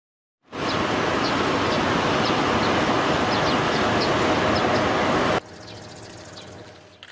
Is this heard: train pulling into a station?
yes